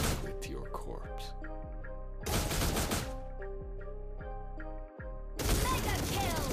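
Granger's first-skill gunfire in a mobile battle video game, with loud bursts of rapid shots in three separate volleys over game music and a voice talking between them.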